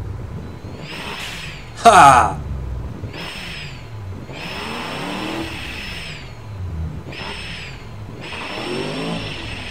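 A turbocharged 800 hp V8 in an engine-building game starting up and revving repeatedly, each rev rising and falling in pitch with turbo whine on top; a man gives a short exclamation early on.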